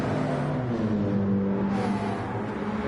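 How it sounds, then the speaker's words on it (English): Alfa Romeo race car drifting through a corner at Deep Forest Raceway in Gran Turismo 7: a continuous engine hum with a tone that wavers and climbs briefly, heard steadily for a few seconds. "One Evil drifting his Alfa Romeo through turn 10."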